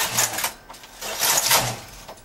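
A knitting machine carriage sliding across the needle bed to knit two rows, giving two sharp, close rattling whooshes with no talk.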